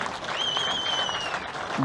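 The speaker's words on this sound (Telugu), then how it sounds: "గట్టిగా చప్పట్లు కొట్టి అభినందించండి" Audience applause at a public meeting, a steady broadband wash of clapping held for about two seconds, with a faint tone and voices underneath.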